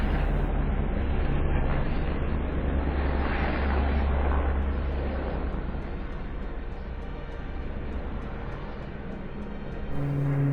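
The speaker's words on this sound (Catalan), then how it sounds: "Durant 2 dies és constant el soroll d'helicòpters i motosserres" A continuous low helicopter rotor drone rumbles overhead during a wildfire in the Garraf, loud at first and slowly fading a little, with a steady mechanical hum throughout.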